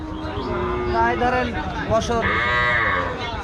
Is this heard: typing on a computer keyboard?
no